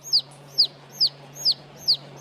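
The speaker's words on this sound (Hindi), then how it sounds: "देखते ही मुर्गी चिल्लाई।" Five sharp, evenly spaced high calls repeat over a faint steady hum, a bird calling out loudly in a regular rhythm.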